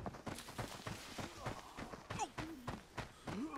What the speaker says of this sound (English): Still footsteps back there.